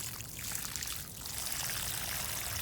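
Water pours steadily from a garden hose or container into a freshly dug planting hole for a tomato in a spring vegetable garden, a continuous splashing gurgle close by with no talk.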